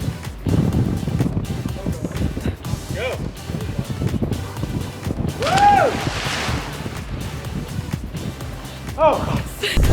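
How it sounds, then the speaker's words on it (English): Strong wind buffets and roars across the microphone while people shout and talk over it at a Skooliepalooza gathering. "It's very windy."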